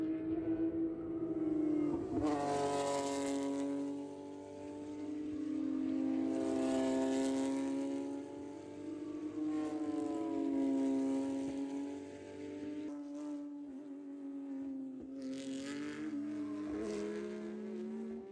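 Porsche GT3 Cup race cars lap the Spring Mountain circuit, their engines wailing loudly with repeated rising and falling pitch sweeps as they accelerate, shift and pass, continuing steadily without talk.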